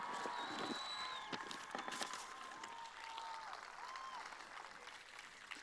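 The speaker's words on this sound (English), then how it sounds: "Give me a round of applause for something that you're thankful for." Crowd applause at an outdoor climate march in Washington, D.C., a dense, continuous clapping wash layered with scattered whistles and cheers, moderately distant.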